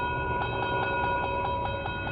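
A train rolls past a sleepy rail junction just across the border into Oklahoma, with a steady rumble and a regular clacking rhythm under sustained tones.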